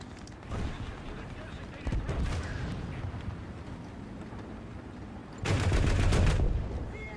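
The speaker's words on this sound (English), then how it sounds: "Somebody's attacking the A point, judging by the sounds of the shots." Gunshots in a video game battle, sharp bursts of firing heard in two separate volleys over a steady rumbling background, the second burst louder and closer.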